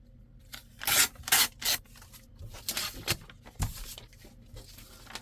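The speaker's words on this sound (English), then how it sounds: "trim the excess off that I don't want to use" Scissors snip and slide through glossy magazine pages in a series of quick, close cuts and rustles, irregular bursts with brief quiet gaps between them.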